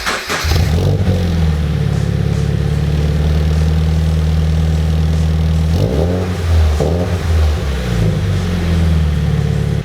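A Subaru BRZ/Scion FR-S/Toyota 86 fitted with an MXP catback exhaust fires up with a brief cranking burst, then settles into a loud, steady, throaty idle with a couple of small throttle blips near the end.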